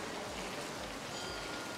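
Steady rain pours at Mookambika temple in Kollur, a continuous broad wash of falling water, close and unbroken throughout.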